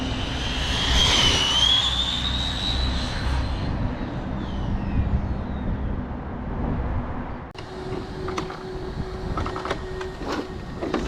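An Arrma Limitless RC car on a freshly repaved street, running a 25-tooth pinion and reaching 78 mph, makes a loud, high, whining motor scream that climbs and fades as it races by, then gives way to quieter road noise.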